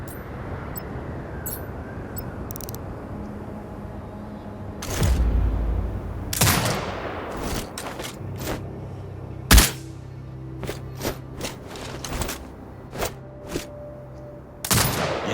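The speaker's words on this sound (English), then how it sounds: "Exit binocular mode and command the turret to fire." In the video game Sniper Ghost Warrior Contracts 2, a turret fires a series of loud, sharp gunshot bursts with booming echoes, irregularly spaced over a quiet ambient background.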